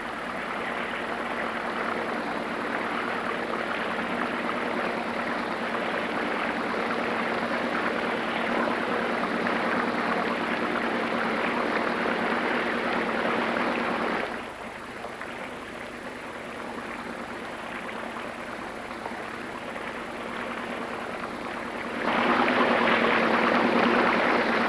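A motorboat travels up the Sepik River in Papua New Guinea, its engine a continuous droning rumble that dips in level partway through and then swells again.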